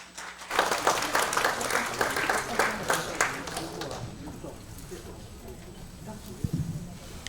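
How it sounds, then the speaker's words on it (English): Audience applause welcoming a speaker to the stage at a Maori New Year (Matariki) event, a burst of clapping that swells quickly, then fades into quieter scattered claps and room murmur. "So round the applause, let us welcome Mark to come up to the stage and deliver a few words for us."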